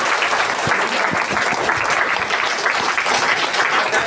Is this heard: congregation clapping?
yes